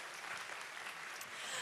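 Audience applause at the 2022 UOB Painting of the Year Awards ceremony, a steady, dense clapping from a crowd that holds at an even level for the whole stretch with no talking over it.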